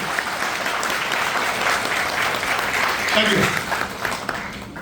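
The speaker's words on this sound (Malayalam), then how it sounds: "നല്ലൊരു കൈയടി കൊടുക്കാം തമിഴ്നാട്." Audience applauding visitors from Tamil Nadu at a speech event in Thrissur, a dense, steady wash of clapping lasting several seconds with some voices mixed in.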